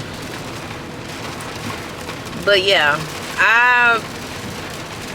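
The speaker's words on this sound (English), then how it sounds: "I'm sorry if y'all can hear that rain hitting." Rain patters steadily on an outdoor surface as a constant hiss under a person speaking briefly.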